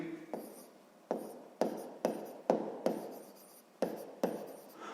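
A pen writes out a sixth-grade math solution on paper in close, crisp strokes: about eight bursts of scratching, each starting sharply and fading, with short pauses between them.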